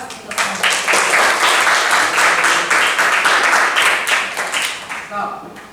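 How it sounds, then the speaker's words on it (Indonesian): Applause from a classroom audience of high school students after a peer-teaching exercise, a dense continuous wash of many hands clapping that lasts several seconds and fades slightly toward the end. "Oke, aplaus untuk Anda."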